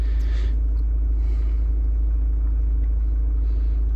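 A Mazda CX-5 engine with low oil pressure idles steadily, giving a continuous close, even rumble throughout with no voices.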